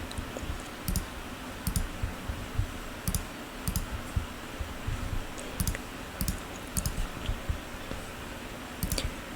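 A computer mouse clicks at a desk in sharp, close pairs and short bursts, spaced a second or so apart over a quiet background hiss, with no talking.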